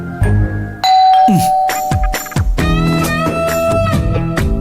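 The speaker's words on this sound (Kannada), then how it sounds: "ಇನ್ನೊಂದ್ಸಲ ಬೆಲ್ ಮಾಡಿ ನೋಡು." A doorbell rings with a ding-dong chime, repeated in bright tonal pulses that sound close and loud over a TV serial's background music.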